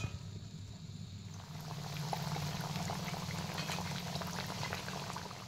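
Hot palm-fruit jilipi dropped into sugar syrup, giving a steady close bubbling and frying hiss with soft liquid movement throughout, slightly louder in the second half.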